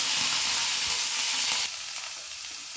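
Curry leaves hit hot oil for a banana-flower thoran, giving a loud, steady, hissing sizzle that eases slightly partway through and carries on with no talking.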